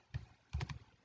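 Typing on a computer keyboard: one faint tap, then a quick cluster of three or four soft keystrokes, close and quiet.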